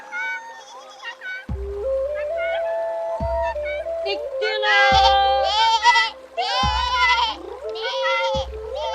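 Several goats bleat in turn, wavering nasal cries repeating over a steady musical background, with periodic low thumps underneath.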